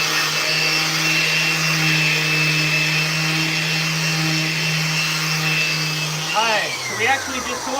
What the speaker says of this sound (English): I have a full Festool vacuum attached to this orbital